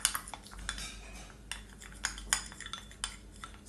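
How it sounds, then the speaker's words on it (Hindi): A spoon stirs cornflour into a face mask paste in a small bowl, giving light, irregular clinks and scrapes of metal against the dish, close and quiet with no talking. "इसको हम अच्छे से मिक्स करेंगे कि इसका पेस्ट बन जाए।"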